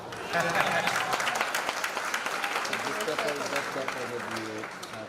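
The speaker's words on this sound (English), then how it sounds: "Good applause for Pepa also." Audience applause at an opening ceremony prize presentation, a sustained round of clapping with a voice speaking over it partway through.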